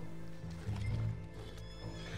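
A horse in the video game Red Dead Redemption 2 gives a loud, close neigh over the clip-clop of its hooves, with no talk.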